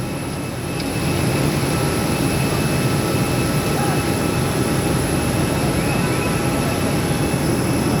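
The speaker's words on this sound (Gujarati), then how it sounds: "અહીંયા બીજું વિમાન લાગી ગયું છે." An airplane gives off a loud, continuous engine roar close by, a broad steady rushing drone that holds unchanged throughout with no clear talk.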